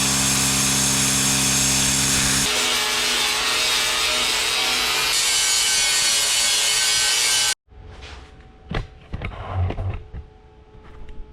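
A power tool grinds along scribed cut lines in the metal of a 1955 GMC 100 truck, a loud continuous whine that shifts pitch midway, then stops abruptly, followed by scattered clanks and rustling.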